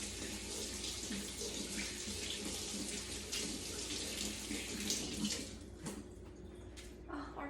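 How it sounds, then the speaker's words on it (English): Tap water runs steadily into a kitchen sink while hands are washed under it after handling turkey for stuffed peppers, a close, continuous splashing that tapers off near the end. "now let's wash these turkey hands"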